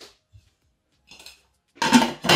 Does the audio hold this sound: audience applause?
no